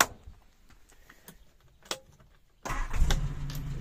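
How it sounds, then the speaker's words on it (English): A 1967 MG 1100 Automatic cranks and catches after a few quiet clicks and a thump, then settles into a steady, close idle with a low engine rumble. "It starts on the button, runs nicely."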